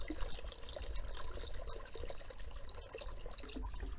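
Water runs and trickles steadily into an olla auto-fill reservoir, a soft continuous pouring sound at low volume.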